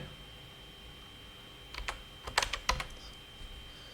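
Someone types on a computer keyboard while editing a website heading. After a quiet start, a short, close flurry of keystroke clicks comes in a few quick bursts, then fades back to a soft background.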